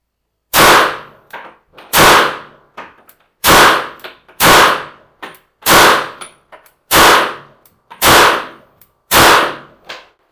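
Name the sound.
Sphinx 3000 titanium pistol firing several shots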